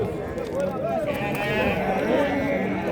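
Sheep bleating at a livestock market, with repeated close calls over a steady background of people talking.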